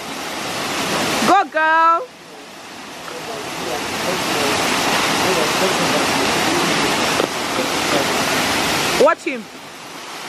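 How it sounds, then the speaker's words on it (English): Rushing water from the Olumirin waterfalls in Erin Ijesha, Osun State, a steady broadband roar that fills the whole clip, with brief voices speaking near the start and again toward the end. "So this is the first step of the Olumirin waterfalls."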